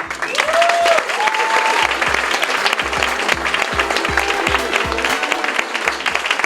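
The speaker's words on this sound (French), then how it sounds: "Vous avez tellement applaudi fort" An audience at a regional culture awards gala applauds loudly and steadily, dense clapping filling the hall throughout, with a few rhythmic claps standing out and brief cheers early on.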